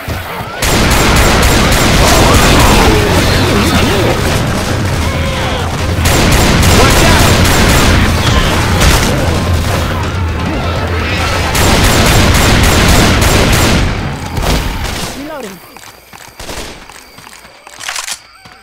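Heavy gunfire in Left 4 Dead 2 at the Plantation, dense rapid shots in sustained bursts, loud and close, thinning to scattered clicks and shots near the end.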